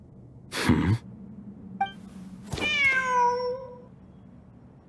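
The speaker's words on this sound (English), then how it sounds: "The cat!" A cat in the Genshin Impact video game meows: a short breathy call, then a single brief chirp, followed by a longer, clear, drawn-out meow, all close and alone against a quiet background hum.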